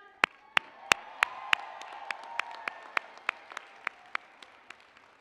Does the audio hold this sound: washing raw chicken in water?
no